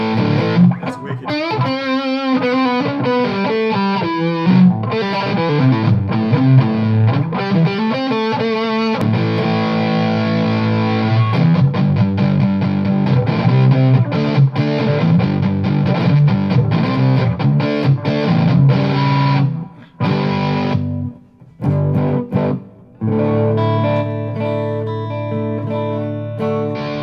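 A heavily distorted electric guitar plays through a Line 6 Helix with gain pedals into Mackie Thump Go speakers, loud and sustained with chords, bends and riffs, breaking into short stabbing gaps near the end.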